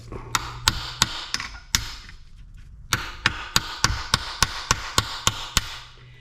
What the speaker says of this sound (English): I just give it a couple taps with a hammer